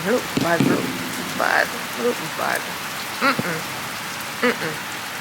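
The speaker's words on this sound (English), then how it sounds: "I just want to show you guys that rain is tearing." Heavy rain falls steadily as a constant wash of noise, with a voice speaking over it at intervals.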